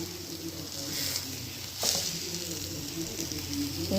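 Fish roe cooking in a pan, a moderate continuous sizzle and crackle with a brief scrape or stir near the middle, close and without talk.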